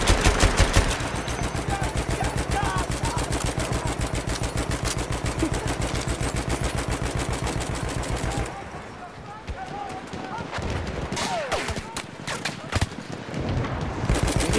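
Rapid automatic gunfire from a Battlefield 1 match, a dense rattling stream of shots that runs steadily for several seconds, then gives way to scattered bursts and battle noise while a player talks over it.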